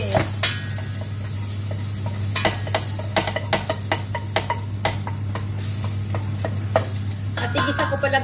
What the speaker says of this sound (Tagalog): Yan, gisa-gisa lang muna. Gisa-gisa.